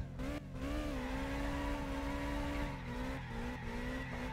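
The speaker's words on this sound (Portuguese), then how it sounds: "Vamos sair dando aquela fritadinha básica." Car tire squeal from a rear-wheel-drive car doing a burnout in the game My Summer Car, a sustained high screech over a loud revving engine lasting several seconds with no talking.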